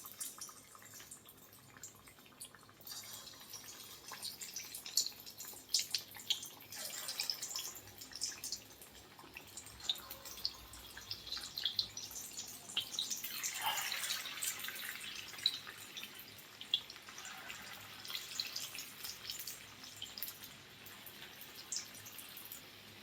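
Spoonfuls of moong dal fritter batter dropped into hot oil set off a steady fizzing sizzle that swells and thickens midway, with a broad bright hiss and faint crackles running throughout and no talking.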